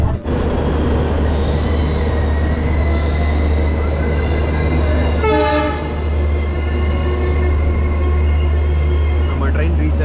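A Vistadome train on the Bengaluru to Gokarna run near Kunigal rumbles steadily and loudly throughout, and its horn sounds once in a short blast midway.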